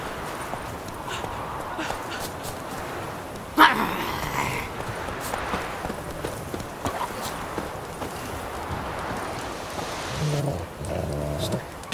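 Dog in The Witcher 3 whimpers and yelps amid game ambience with hoof-like clopping, a sharp bark standing out partway through and soft background voices underneath.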